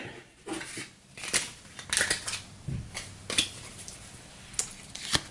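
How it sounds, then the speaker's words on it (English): Deck of board game cards for Gaia Project being shuffled, a string of short papery riffles and snaps at close range, spaced unevenly across the moment with no talking. "So we'll rebuild the deck."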